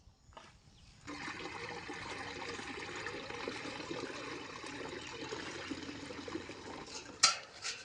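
A steady, full stream of liquid, a milky garden plant-spray mix, splashes into water for several seconds, rushing and continuous, ending with a brief sharper splash.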